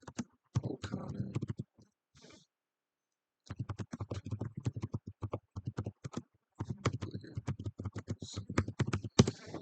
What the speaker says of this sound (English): Let's just type this in.